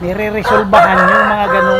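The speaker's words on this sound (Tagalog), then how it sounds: "ito yung manok natin" A chicken crows close by in a short, wavering call. Someone speaks over it.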